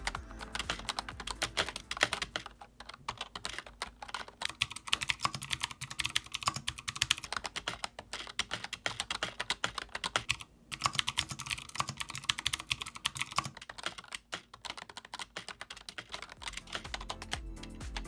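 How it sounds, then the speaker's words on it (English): Steady, rapid typing on a MasterKeys Lite L RGB keyboard with plastic-sounding switches, close and crisp, with continuous clacking keystrokes and only brief pauses. "My first impressions were that I was typing on a plastic switch because of the sound it produces."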